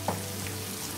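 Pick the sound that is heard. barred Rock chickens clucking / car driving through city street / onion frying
onion frying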